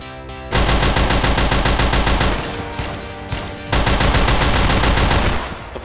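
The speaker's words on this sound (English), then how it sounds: "the Browning machine gun turret is the only weapon available" A Browning machine gun turret fires in the video game Line of Fire, with long, loud, continuous automatic bursts that pause briefly twice before resuming at full intensity, up close.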